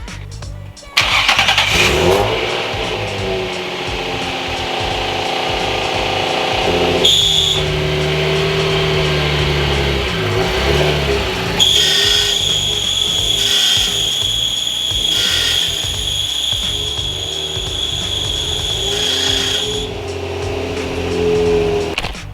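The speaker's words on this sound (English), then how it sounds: "the clutch is squealing like crazy" A Toyota Supra engine idles with a shrill, high-pitched clutch squeal that comes and goes, loudest in a long stretch near the middle, over steady mechanical noise.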